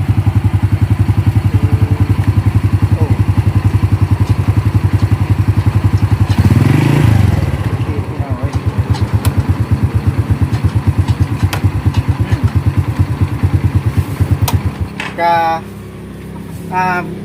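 Motorcycle engine running close and loud with a steady rapid idle throb, a heavy thump partway through, then a rougher, uneven idle with clattering toward the end.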